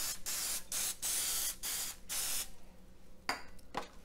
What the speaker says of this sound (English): Now we're going to take our loaf pan and give it a nice spritz with oil.